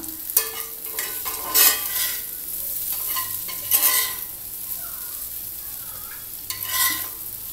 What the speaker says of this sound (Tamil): இந்த சைடு நல்லா ரோஸ்ட் ஆகிடுச்சுங்க. திருப்பி போட்டுக்கலாம்.